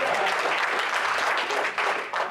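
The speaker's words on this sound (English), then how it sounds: "clap your hands unto the Lord." A church congregation claps their hands during a worship service, a short burst of loud, dense, continuous clapping with some crowd noise mixed in.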